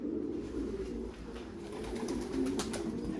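Pigeons cooing in a pigeon loft with young birds, a steady low murmur of overlapping coos from several birds close by, and no speech.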